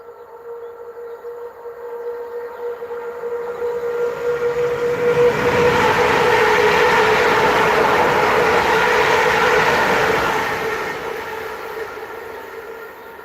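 A Class 350 electric train passes on the West Coast Main Line north of Crewe, its roar and wheel rumble swelling steadily to a loud, sustained peak before easing away, with no voices.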